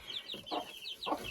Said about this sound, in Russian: эту шелковую курочку со своими цыплятами